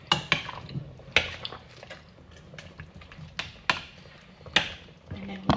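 Brown stew chicken being stirred in a pot, a spoon giving a string of scraping, clattering knocks against the metal at an uneven pace, close and moderately loud with quiet room noise between strokes.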